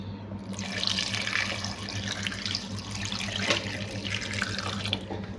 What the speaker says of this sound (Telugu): తగినంత వాటర్ వేసుకొని పొయ్యి మీద పెట్టేస్తాము